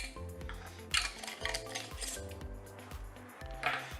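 Lids being screwed tightly onto glass jars of goat cheese cheesecake batter, giving a run of close glassy clinks, taps and scraping twists over steady background music.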